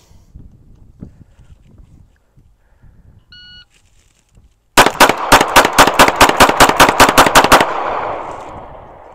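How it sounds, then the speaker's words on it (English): Two compact .380 pistols, a Ruger LCP II and a Smith & Wesson Bodyguard, are fired together in a rapid string of about fifteen loud, sharp shots on an outdoor range, preceded by quiet handling noise and a short electronic beep. "We're going to go ahead and shoot these things akimbo"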